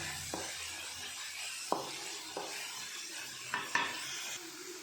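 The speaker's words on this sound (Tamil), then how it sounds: "லைட்டாக மிக்ஸ் பண்ணி கொஞ்சம் நேரம் சிம்மில் வச்சுக்கோங்க." Vegetable gravy simmering in a pan while being lightly stirred, a soft low bubbling hiss with a few scattered scrapes and clinks of a utensil, quiet and close.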